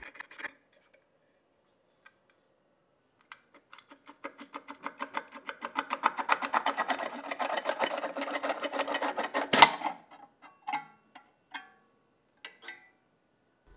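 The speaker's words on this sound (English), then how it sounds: "To remove this cover, you want to pull and move the tool back and forth until the cover becomes" A remover tool rocks back and forth to pull the knife cover off an NP4 or NP10 skiving machine, producing a rapid buzzing rattle that builds and ends in a sharp snap, followed by scattered clicks.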